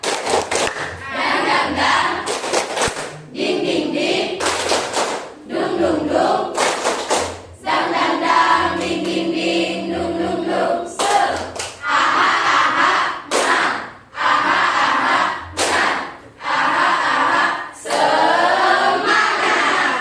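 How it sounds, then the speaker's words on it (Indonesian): A classroom of students performs the rhythmic 'tepuk semangat' clapping chant as an ice-breaker, bursts of loud unison claps in a patterned beat alternating with shouted group chanting, close and energetic throughout. "jadi ice breakingnya itu tepuk semangat"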